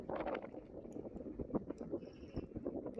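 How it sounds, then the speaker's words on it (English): Strong wind gusts buffet the microphone outdoors in late April, a continuous rough, rumbling roar that swells and dips throughout with no voices. "wind's really kicking right now"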